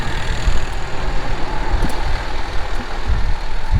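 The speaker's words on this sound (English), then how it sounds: "I'm going to hop in the backhoe and load up." A backhoe loads lime on a farm, its diesel engine rumbling loudly and steadily with irregular low thumps and clanks of the bucket working the pile, up close with no talk.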